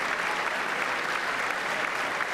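An audience at the State of the Union address breaks into dense, steady applause, a continuous wash of clapping heard at a moderate distance with no pauses.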